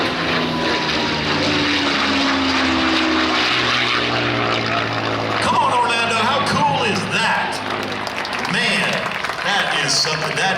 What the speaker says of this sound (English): watch what he does with this amazing aircraft